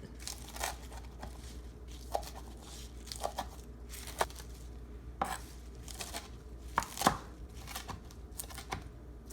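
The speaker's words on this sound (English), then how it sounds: "I'm going to just roughly chop it." Vegetables are roughly chopped with a knife on a board, producing sharp, irregular close knocks spaced about a second apart over a faint, quiet background.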